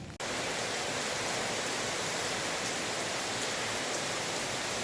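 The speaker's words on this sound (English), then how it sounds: "I'm just sitting here watching the rain. It is pouring down still all day." Heavy rain pouring down in Ubud, Bali, a dense, even hiss of falling water that starts abruptly and holds steady, close and uninterrupted with no voices.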